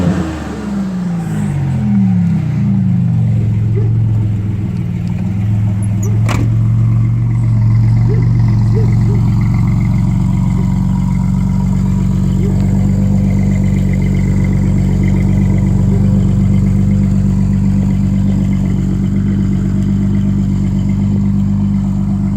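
Ford Mustang 3.8 V6 engine, with a 2001 Mustang mentioned, revving up then holding a steady, loud, throaty idle up close for over twenty seconds, with no talking.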